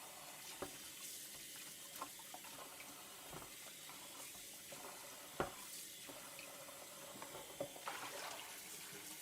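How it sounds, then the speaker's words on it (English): Lobster pieces are rinsed under a kitchen tap, a faint steady stream of running water with scattered small splashes, clicks and knocks of shell against the sink. "It's a quick little rinse."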